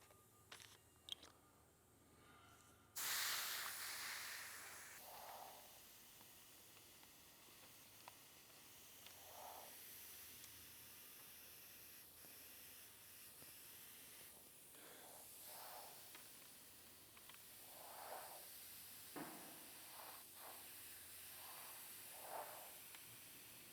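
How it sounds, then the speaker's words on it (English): An HPC airbrush sprays black base paint around flame artwork on a skateboard, giving a steady soft hiss with several short louder bursts spread through, close by with no talk. "So I'm gonna run it through my HPC airbrush here."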